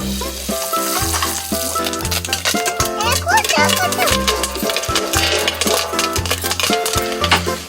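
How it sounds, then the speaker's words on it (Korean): Corn fries in plenty of oil in a pot set on a wood-fired stove in a Nepali mountain village, a steady sizzle and stirring under loud music and some talking. "화덕에 냄비를 얹고 기름을 듬뿍 넣어 옥수수를 볶습니다."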